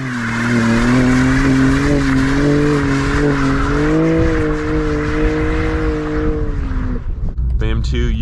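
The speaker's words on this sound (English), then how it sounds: "The M2, you can do big smoky burnouts." A 2024 BMW M2 does a smoky burnout, its engine howling at high steady revs while the tires squeal loudly and continuously, then the noise cuts off abruptly near the end.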